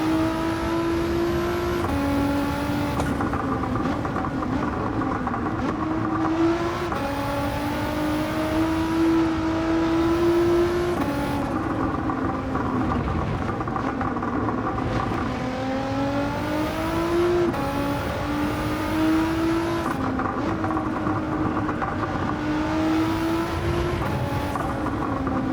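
Race car engine in Gran Turismo 7 driving continuously, with rising and falling revs through gear shifts and corners, loud and steady throughout.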